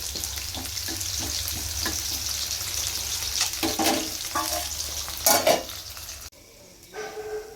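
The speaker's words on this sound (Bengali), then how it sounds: "এখানে মাছগুলো ভাজা হচ্ছে" Fish frying in a pan in a home kitchen makes a continuous close sizzle with repeated stirring strokes and a sharper clatter of cookware, then the frying sound drops away near the end.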